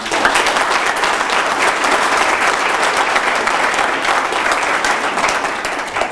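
Steady audience applause at a talk on ethical leadership and democracy, a broad, even wash of many hands clapping for several seconds without pause.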